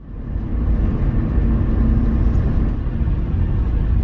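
Steady engine drone and road roar from inside a car called Nigel cruising along a motorway, continuous and fairly loud for the whole stretch with no voices.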